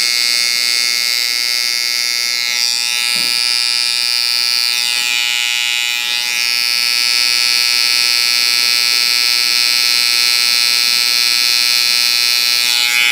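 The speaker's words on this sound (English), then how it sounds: "I bring my fingers closer up on the trimmer here for short movements and a lot of control" An electric hair trimmer buzzes loudly and continuously during a taper haircut on curly hair, a steady close-up whine that holds through the whole stretch with slight shifts as the blade moves.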